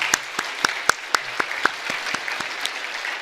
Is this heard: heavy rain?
no